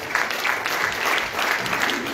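Church congregation giving a hand clap of praise, a dense, continuous round of applause from many people throughout a sanctuary, steady and moderately close.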